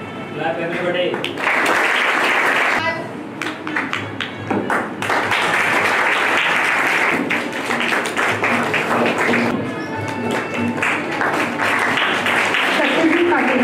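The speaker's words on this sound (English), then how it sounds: "Clap everybody." School audience applauding at an investiture ceremony, a long, dense, sustained round of clapping from a large crowd, with a brief dip in the middle, while voices come through over the applause at times.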